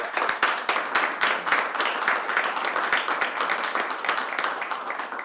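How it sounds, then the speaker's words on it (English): A round of applause at a transit board of directors meeting, a modest room of people clapping steadily and evenly throughout, moderately near, with no voices over it. "That's a big round of applause."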